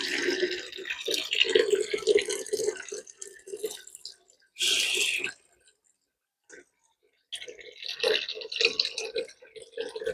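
Water poured and splashing while watering plants outdoors, coming in uneven bursts with a quiet gap in the middle, under a voice speaking.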